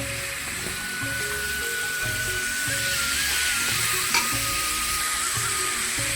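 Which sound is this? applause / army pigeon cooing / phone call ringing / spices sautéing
spices sautéing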